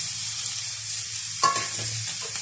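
Two tomatoes hit hot oil in a pan for sambar, giving a steady close sizzle with a sharp scrape and clatter of the spoon stirring them partway through.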